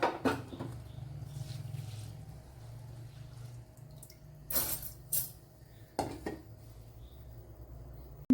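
Soaked white rice, two glasses' worth, tipped into a mixer grinder jar in a home kitchen, heard as soft wet patter and a couple of brief sharp knocks against the jar, close and fairly quiet, with no talking.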